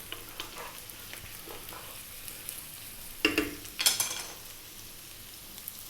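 Onions, garlic and carrots fry in a pan while being stirred: a quiet, steady sizzle broken by a few brief scraping clatters of the spoon midway.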